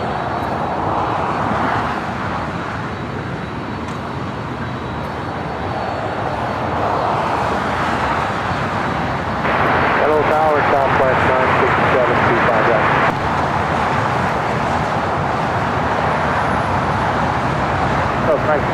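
A passenger jet lands on runway 25 left at LAX, its engine roar swelling and rumbling steadily under near-continuous air traffic control radio voices.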